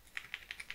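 Typing on a computer keyboard while coding, five quiet, evenly spaced key clicks close to the microphone with no talking.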